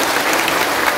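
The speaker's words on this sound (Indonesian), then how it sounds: "Tepuk tangan untuk panitia." A burst of dense, steady clapping from a crowd at an Islamic religious study gathering in Hong Kong, loud and continuous.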